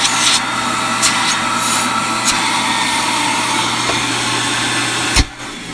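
A Beam central vacuum fitted with a brand new motor runs with a steady, loud whooshing drone throughout, a few faint clicks along the way, then cuts off abruptly near the end.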